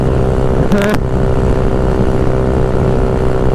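Honda Ruckus scooter fitted with a 171cc GY6 engine cruising on a freeway, a steady loud engine drone with heavy wind roar throughout, holding a constant tone without throttle changes.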